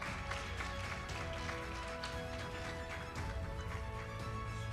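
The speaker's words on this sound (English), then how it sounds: "Let's give a round of applause together." Audience at an international halal lifestyle conference in Indonesia applauding, a dense, continuous clapping from a crowd that holds steady and fairly loud throughout.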